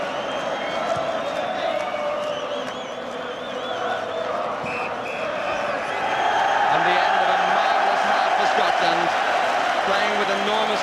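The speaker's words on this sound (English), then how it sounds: "Good trophy cheer from the Scottish gathering." Scottish supporters in a World Cup crowd, Scotland against the USSR in 1982, lift a broad cheer that swells in the second half over steady stadium murmur, with a commentator talking over it.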